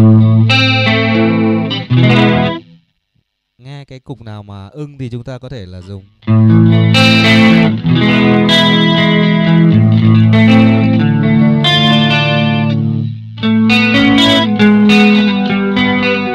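Electric guitar played clean through a chorus effect on a Zoom G1XOn multi-effects pedal, ringing chords and notes with a shimmering, doubled tone, loud and close, with a short spoken aside in the middle.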